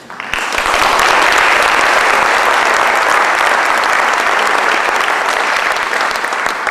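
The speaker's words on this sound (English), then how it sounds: "A special round of applause for Bob and Kim" A crowd at a high school athletic hall of fame ceremony breaks into loud, sustained applause that swells quickly and stays dense and even to the end.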